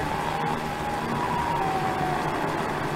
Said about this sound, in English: I hear him! I hear the siren head!